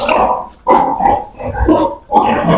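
Piglets on a farm squeal loudly while one is being weighed, sharp high cries coming in three close bursts with brief gaps between them.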